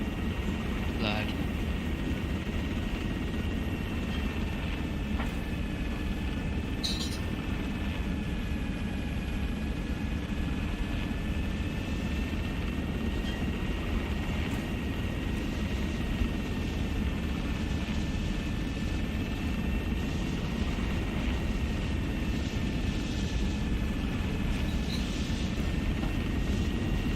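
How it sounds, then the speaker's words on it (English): Sustained, steady rotor and engine drone from a helicopter in flight in the Arma 3 military game, heard from inside the cabin with players talking over it throughout. "We're inside the chopper, flying up towards."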